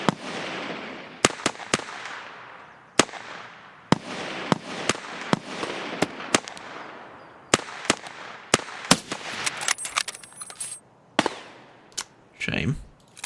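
Gunfire from a T-5000 rifle in the video game Escape from Tarkov rings out as a series of sharp, loud single shots at irregular intervals, some in quick pairs, with brief pauses between them.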